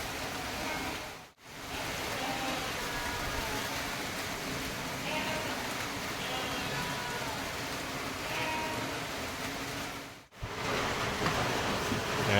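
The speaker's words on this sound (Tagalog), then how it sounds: "Grabe ulan." Heavy rain pours down during Typhoon Crising, a loud, steady hiss of falling water that fills the whole stretch, breaking briefly twice; no wind is heard.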